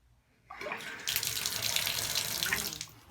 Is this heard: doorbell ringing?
no